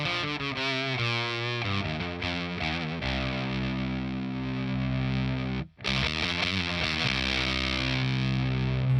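Electric guitar runs through a Fender Hammertone distortion pedal with the gain raised, giving thick, gritty sustained chords and riffs, loud and continuous with one brief dropout near the middle, no voices.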